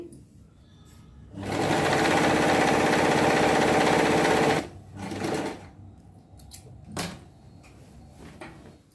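A sewing machine stitches a single-then-double folded hem on the back piece of a designer dress, running in one loud continuous burst of about three seconds, followed by a shorter run and a few faint clicks.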